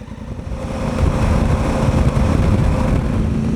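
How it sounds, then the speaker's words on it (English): Engine of a high-mileage Honda Africa Twin motorcycle, slightly smoky on startup, running as a steady low rumble that swells after the first second and holds close and loud throughout. "There's an Africa Twin with lots of miles on it."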